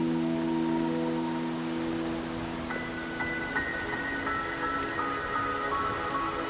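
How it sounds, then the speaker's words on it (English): Steady rain patters on surfaces in the video game Wuthering Waves, a constant soft hiss beneath sustained musical tones. "Don't worry, the rain won't last much longer."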